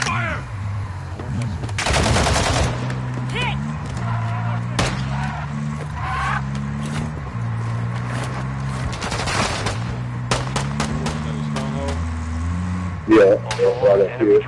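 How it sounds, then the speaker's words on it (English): Rapid automatic gunfire and bursts of shots ring out in a video game firefight, with engine rumble and skidding beneath, while players talk over the constant action. "Taking effective fire!"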